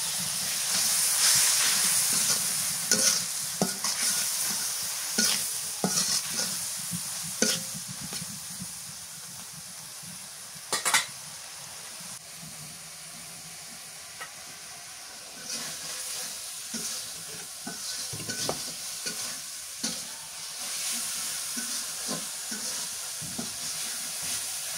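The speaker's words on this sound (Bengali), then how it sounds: "মশলা শুকটি ভালো করে কষানো করে নিলাম" Spiced dried fish (shutki) sautéing in a pan, giving a soft continuous hiss and sizzle with scattered scrapes and clicks of stirring, fairly quiet and close, with no voices.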